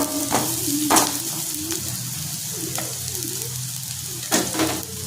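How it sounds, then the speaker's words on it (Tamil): Raw mango being lightly sautéed in a pan for a spicy Andhra-style chutney, a steady soft sizzle broken by a few brief scraping stirs, close and fairly quiet. "மாங்காய் கார சட்னி லைட்டாக வதங்கிக்கிறோம்"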